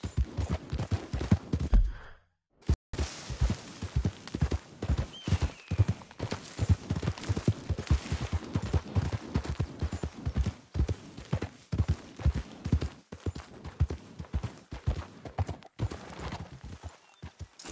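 A horse in the video game Red Dead Redemption 2 trots with a brisk, steady clip-clop of hooves, close and clear, keeping an even rhythm after a short pause near the start.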